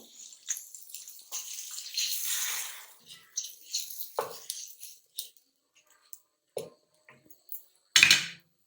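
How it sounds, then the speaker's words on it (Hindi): Water from a small bowl poured into a cooking pot in a home kitchen while making hare pyaaz ka keema, a splashing pour near the start followed by scattered faint clinks and taps. "ये कटोरी भर के मैं इसमें पानी डाल दूंगी।"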